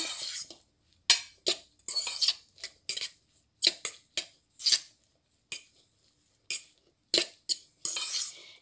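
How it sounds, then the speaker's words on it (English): Grated potatoes are tossed and mixed in a bowl with a utensil, giving a series of sharp scraping, clinking strokes in an irregular rhythm, close and fairly loud with short pauses between. "just give that a good mix, just so that all the potatoes get coated"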